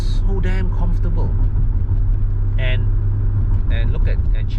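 A BMW E32 driving on the road through a bend, a steady low engine and road rumble from inside the cabin, continuous and loud, with someone talking over it.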